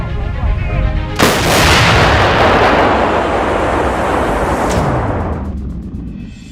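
A 2S7 Pion self-propelled howitzer fires its 203mm gun with one huge, close blast that rolls into a long, heavy rumbling decay, a second sharp crack cutting in near the end before the echo fades.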